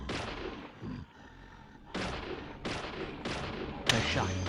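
Gunshots in Deadly Premonition ring out as about five sharp, loud bangs at uneven intervals, each with a short echoing tail against quiet background ambience.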